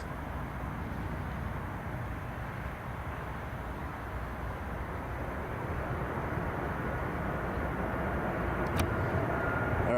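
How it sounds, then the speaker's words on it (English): An Aer Lingus Airbus A330 departing O'Hare for Dublin: a steady, broad jet-engine roar heard from a distance, slowly swelling louder toward the end, with no speech. "Aer Lingus A330 off to Dublin."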